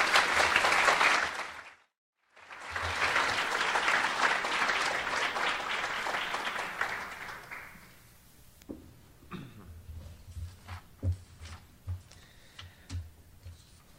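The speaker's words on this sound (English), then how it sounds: "let's give Administrator Rosekind another round of applause" Applause from a summit audience on teen safe driving, loud and continuous for about eight seconds with a brief gap, then fading into scattered claps and light room noise.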